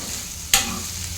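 Ivy gourd (dondakaya) pieces with green chillies fry in a pan under a soft, steady sizzle, broken halfway by one sharp scrape of a stirring spoon.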